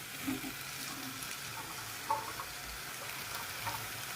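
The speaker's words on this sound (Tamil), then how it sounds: "எல்லாம் வதங்குதா பாருங்கள்" Pirandai chutney ingredients with tamarind and plenty of garlic sautéing in a pan, a low steady sizzle with a few faint stirring scrapes, no voices.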